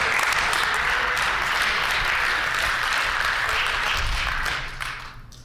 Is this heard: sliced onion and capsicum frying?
no